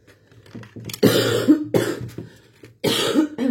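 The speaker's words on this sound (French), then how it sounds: "Entre moi qui tousse, qui fait des bêtises" Someone coughs in several harsh, close bursts, with quiet breathing and a short pause between the fits.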